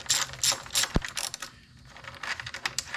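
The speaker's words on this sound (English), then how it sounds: "I'm going to use a 10mm socket." A 10mm socket ratchet clicks while loosening acorn-style cover nuts on a 2006 Toyota Tundra 4.0 V6 engine, giving close, quick bursts of pawl clicking with a short lull in the middle.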